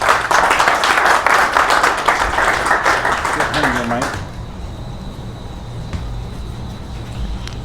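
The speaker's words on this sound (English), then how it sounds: "big round of applause for Zach." Audience at a Tech Alley Vegas demo night applauding a presenter, loud close clapping for about four seconds that fades out into quiet room tone.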